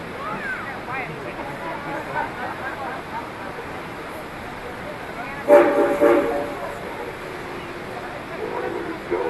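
A steam locomotive whistle on the Georgetown Loop Railroad sounds a short, loud blast midway through, rising over steady rail rumble and ambient noise while a narrator talks.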